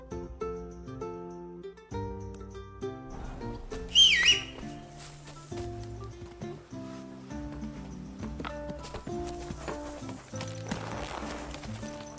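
Horse hooves clip-clop in Kingdom Come: Deliverance 2, a steady walking rhythm under game music and a brief whistle.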